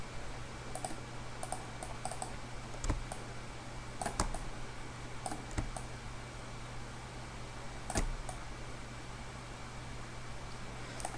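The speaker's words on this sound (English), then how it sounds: "simply by double clicking on every video" Mouse clicks at a computer while editing in Adobe Premiere, a handful of soft scattered clicks over a steady hum and faint hiss, no talking.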